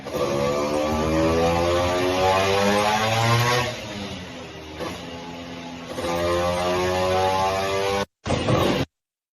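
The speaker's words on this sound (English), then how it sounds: "You can see they're doing a bench test for horsepower over there, but it's just a 4-gear little Vespa." A small four-gear Vespa engine runs on a horsepower bench test, holding a steady droning whine that rises and falls in pitch as it is revved, loud and continuous before cutting out near the end.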